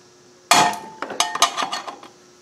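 Metal pry tool clanks against the rear brake disc area of a Kawasaki KLR 650 motorcycle, starting with one sharp ringing hit and then a run of smaller uneven metallic knocks and clinks close by.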